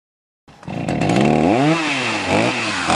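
After a brief silence, a chainsaw felling a tree on a farm starts up and runs loud and close, its pitch dipping and rising as the blade bites into the wood, with no talk.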